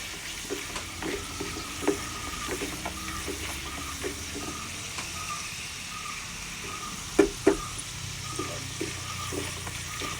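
Spices such as coriander and fenugreek powder sizzling in a pan of hot oil for lemon rice, a steady close frying hiss with a few sharp clinks of a spoon against the pan.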